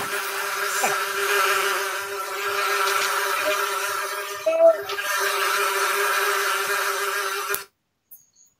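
An insect swarm sound effect played on a sports recap show about the Georgia Swarm lacrosse team: a dense, loud, steady buzzing drone that holds for about seven and a half seconds, then cuts off abruptly.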